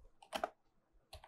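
Typing on a computer keyboard while entering a file path: two quick clusters of close, crisp key clicks separated by a short quiet gap, faint and without talk.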